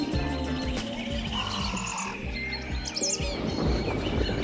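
Birds, including magnificent frigatebirds, chirp and tweet steadily in the background in the Florida Keys, several calls overlapping, fairly faint against a constant low hum.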